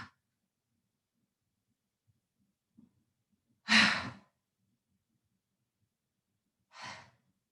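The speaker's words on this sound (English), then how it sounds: "Let's hold it here and practice a few big exhales" Two big, audible exhales during a yoga class, breathy and close, separated by a few seconds of near silence.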